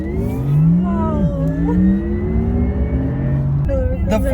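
A Porsche Taycan Turbo electric car accelerates hard, its futuristic motor whine sweeping upward in pitch in several rising stages, heard from inside the cabin while people talk.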